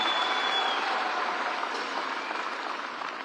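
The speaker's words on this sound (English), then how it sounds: "Another round of applause for His Excellency" A large crowd applauds the Deputy President at a launch event in Kasarani Stadium, a dense, steady wash of clapping that fills the whole stretch and fades slightly toward the end.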